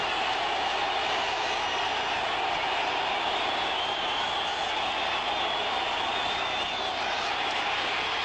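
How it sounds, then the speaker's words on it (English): A stadium crowd at a 1987 NFL game between Washington and Dallas roars on third down, a dense, unbroken wash of distant cheering noise that holds level throughout. "3rd and 5, and listen to the crowd"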